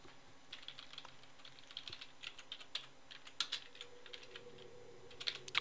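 Typing on a computer keyboard during a modded Minecraft session: quiet, irregular bursts of close key clicks with short pauses between words.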